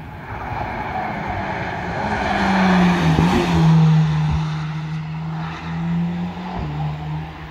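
Cars and prototypes at the Nürburgring track pass by, their engines rising and fading as they sweep past, with a brief tire squeal and a steady drone between passes, heard from trackside with no voices.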